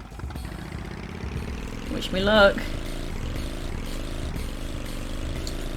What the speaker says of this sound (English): So you do need to rev the engine.